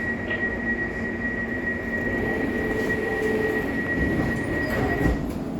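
Elizabeth line train pulling away from Abbey Wood station in London, a steady rail rumble with a sustained whine running throughout at moderate, even loudness.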